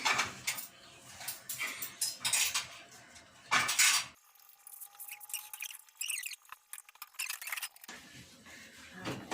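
Clattering dishes and clinking cutlery up close, with scraping and knocking in irregular bursts, a quieter stretch midway, then more rattling.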